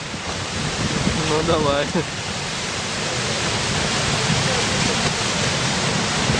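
River ice drift with moving ice floes, a steady broad rushing roar of grinding ice and water, loud and continuous, with someone speaking briefly near the start.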